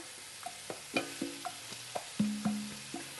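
Chopped onion frying in oil in a pan for Cuban chicken and rice, with quiet sizzling and a string of distinct utensil taps and scrapes as it is stirred, no voices.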